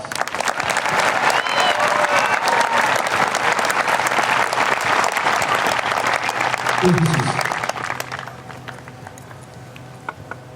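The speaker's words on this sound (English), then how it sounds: "Please join me as we honor this group with a round of applause." Audience applause at a high school graduation ceremony, a large crowd clapping loudly and steadily for about eight seconds before tapering to scattered claps, with voices briefly audible over it.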